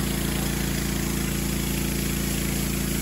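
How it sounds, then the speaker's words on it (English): A Ryobi pressure washer with a 40-degree fan nozzle and a surface cleaner works over a sidewalk, giving a loud, steady engine drone with a constant pulsing hum and a hissing spray, with no speech. "Here I'm using the 40 degree fan on the pressure washer."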